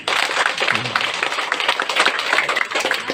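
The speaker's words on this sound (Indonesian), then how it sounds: "itu baru tepuk tangan untuk beliau dulu" Audience applause at a public community meeting with a member of parliament, uneven clapping from a modest crowd, fairly close and steady for a few seconds.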